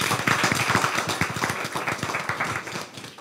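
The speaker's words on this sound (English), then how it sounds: "So we give her a round of applause." A round of applause from the audience at a city council meeting honoring a school principal: many hands clapping steadily, moderately loud, with individual claps distinct and fading slightly toward the end.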